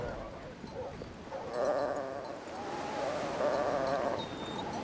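Sheep on a Patagonian ranch bleat faintly in the distance, their wavering calls rising and fading twice over a quiet outdoor background.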